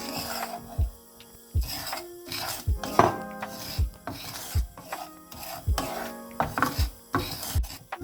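A spoon scrapes semolina lightly roasting in a pan, making repeated rhythmic rasping strokes and small metallic knocks, close and steady, with no talking.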